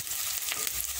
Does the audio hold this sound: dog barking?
no